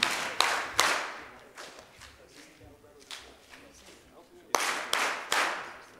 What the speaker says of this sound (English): And we said money clap